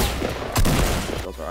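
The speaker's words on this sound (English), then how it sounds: "Rocket launcher." Rocket launcher fire in the Fortnite video game: a few sharp, loud blasts and whooshing bursts packed into a second and a half amid busy game noise.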